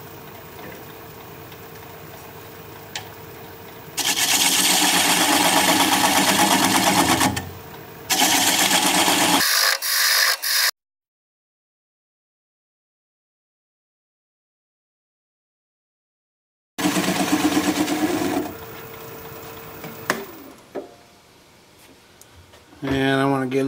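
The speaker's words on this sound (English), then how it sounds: "I'm just going to take a standard grind 3/8 inch bowl gouge and begin to removing that tenon." A wood lathe spins a burl bowl blank at about 500 RPM while a 3/8 inch bowl gouge removes the tenon. It gives bursts of close, rough, whirring cutting noise broken by a long silent gap.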